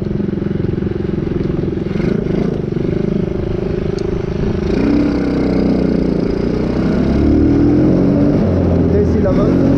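A battered quad bike with a 107 cc engine runs close by with a buzzy, rattling drone that rises and falls as it revs, while someone talks over it.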